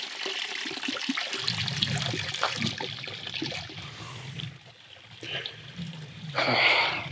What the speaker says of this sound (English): And tiny stream coming down. That little tiny waterfall.